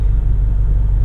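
A Shelby GT350 Mustang engine rumbling steadily at close range, a deep, constant low drone with no voices.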